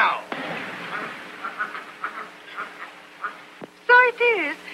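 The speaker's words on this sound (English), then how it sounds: "Here's the duck now." A duck quacks in a 1930s drama film, with several short honking quacks close by near the end, following faint talk and quieter sounds.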